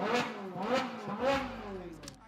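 A voice imitates a car's whirring sound in three rising-and-falling swoops, close and fairly quiet.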